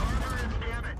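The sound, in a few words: tank cannon shot in video game World of Tanks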